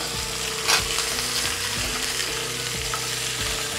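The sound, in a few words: golden trevally fish frying in a pan, being flipped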